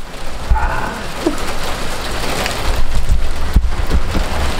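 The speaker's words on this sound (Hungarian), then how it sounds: "Hú, srácok, jégeső, jégeső." Heavy hail or rain pelts down steadily outdoors in a May storm, a dense continuous patter with sharper impacts now and then and some wind noise against the microphone.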